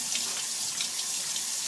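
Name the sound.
rinsing lentils in a sieve under running tap water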